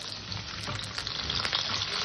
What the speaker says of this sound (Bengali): উচ্ছে কটা দিয়ে আমি আর একটু কষবো, উচ্ছেটা একটু হালকা ভাজা ভাজা ভাজা করবো।